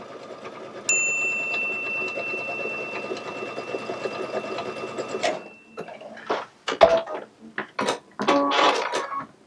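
A Baby Lock sewing machine with a digital dual feed foot couches thread in a continuous whirring run of stitching for about five seconds, then stops, followed by scattered clicks and handling noises.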